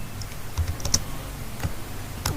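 A block name is typed on a computer keyboard, giving a few soft, scattered key clicks at close range over a quiet room hum.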